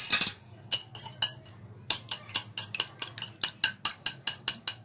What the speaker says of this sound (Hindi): अब अंडा भी इसके अंदर ही डाल के इसको अच्छे तरीके से हम मिक्स कर देंगे।